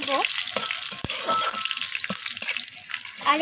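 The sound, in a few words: frying spice tempering with bay leaf, stirred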